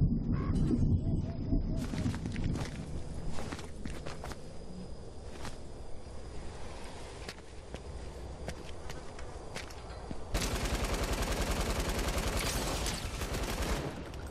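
Rapid gunfire from a weapon in OG Fortnite no-build solos: dense bursts of sharp shots, sparse at first, then a sustained fast volley near the end, mixed with footsteps and game ambience.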